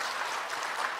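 Church congregation applauding at a Sunday afternoon stewardship dedication service, a steady dense clapping that carries evenly through the whole moment at moderate, fairly distant volume.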